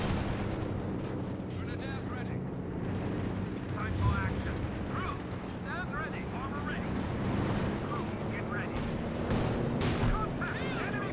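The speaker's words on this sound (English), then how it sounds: "Quick shot there from the Firefly, fails to hit" A Firefly tank gun fires in the Company of Heroes 2 strategy game during a 2v2 battle, its booms sounding among constant rumbling combat noise while a commentator talks throughout.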